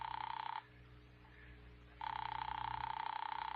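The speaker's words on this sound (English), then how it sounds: "Ring that line you've been holding for me. All right, Doctor, it's ringing here." A telephone rings in a call being put through by an operator, giving two long electronic rings separated by a short pause, faint and thin as if heard over a line.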